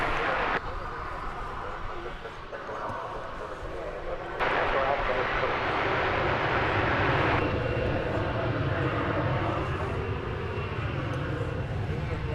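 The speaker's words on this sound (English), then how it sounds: "There is American Flight 1885. It's clear takeoff 18 left. destined for Phoenix, Arizona, an Airbus A321." An American Airlines Airbus A321 takes off from runway 18 Left at DFW Airport, its engine roar swelling into a loud, sustained rumble while a voice talks over it.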